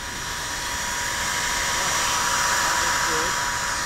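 A wood router carves a heart design into a board, a loud continuous high-pitched whine and hiss that holds steady throughout, close by.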